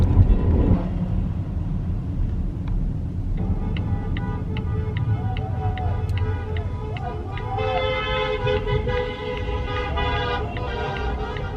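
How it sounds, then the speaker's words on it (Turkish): Car horns toot repeatedly in short bursts amid steady traffic rumble, with several horns overlapping toward the end. "Gelen geçen korna bağırttırıyor."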